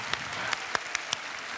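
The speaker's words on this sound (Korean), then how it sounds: "나 박수 주세요." A studio audience at the Korean TV sketch comedy show Comedy Big League gives a brief, fairly faint burst of applause lasting under two seconds.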